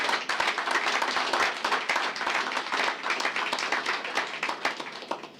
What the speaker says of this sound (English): Fidelity does deserve a round of applause